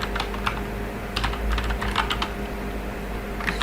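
A computer keyboard clicks under quick bursts of typing as a name is entered, with close, crisp key taps in irregular clusters over a steady low hum.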